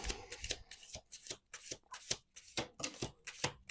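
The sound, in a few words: shuffling a deck of cards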